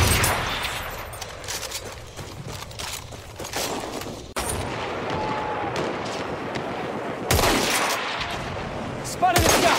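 Artillery battery fire and gunshots in the Battlefield 1 video game, with booming blasts and bursts of shots over ongoing battle noise at varied distances, no talk.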